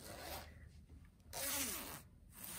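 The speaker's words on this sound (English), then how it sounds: "nice heavy duty zip." A heavy-duty zip on a fleece-lined gym jacket is pulled in a few rasping strokes, close and loud, with a brief pause between pulls and no talking.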